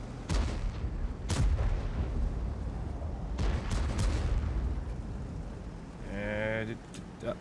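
Booming artillery shots in World of Tanks, with several heavy blasts and rumbling impacts spread through the clip, a player talking over them, and a brief voice near the end.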